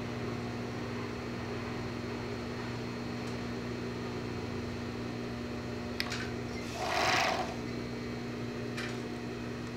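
Sewing machine stitching the side seam of a pair of underwear, a steady, even motor whir running throughout with a brief brighter burst near the end; no one speaks.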